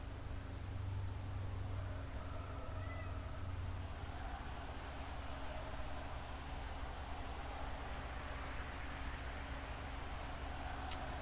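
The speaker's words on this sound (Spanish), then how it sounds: "Está el gato desesperado que quiere salir." A house cat meows insistently, wanting to be let out; the faint, thin calls sit low under a steady wash of background noise.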